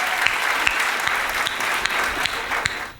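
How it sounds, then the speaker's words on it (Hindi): Loud, dense applause from an audience at a literary festival, a steady wash of many hands clapping that holds for about three seconds before thinning at the end, with no talking. "इसके लिए आप लोग जोरदार तालियां बजाकर उनका सम्मान करें"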